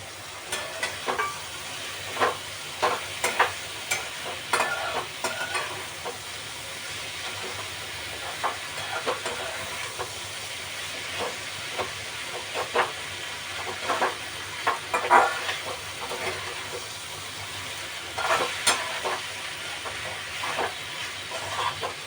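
Capsicum cooking in a pan, a steady hissing sizzle throughout with frequent light clicks and taps of a utensil against the pan.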